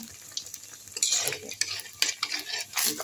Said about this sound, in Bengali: এই দেখুন ভাজা হচ্ছে